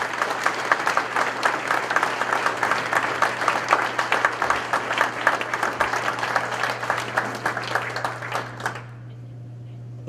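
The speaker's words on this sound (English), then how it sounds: "Ladies and gentlemen, would you please round of applause for the Francophone Games team." An awards-ceremony audience gives a round of applause for the Francophone Games team at a Hall of Fame event: steady, close clapping that stops sharply near the end, leaving only a low hum.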